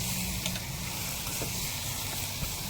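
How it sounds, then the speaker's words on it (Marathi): Constant oily sizzling hisses from a hot pan as chilli powder, turmeric and chopped tomatoes fry in a tempering, steady and close, with faint scraping now and then beneath it. "चांगल्या प्रकारे फोडणी परतून घ्यायची आहे"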